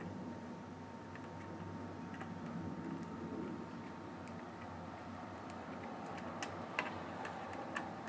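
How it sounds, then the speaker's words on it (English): Screws being backed out of a PlayStation 2 console, a run of faint, irregular ticks and small clicks over a steady low hum, quiet and close throughout with a couple of slightly sharper clicks near the end. "you simply then at that point you just unscrew all the screws"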